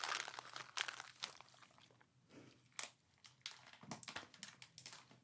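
Crisp, irregular crunching bites of coconut chocolate close to the mic, with crinkly snaps scattered across a few seconds and quiet gaps between.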